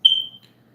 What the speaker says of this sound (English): y'all gotta excuse my my fire alarm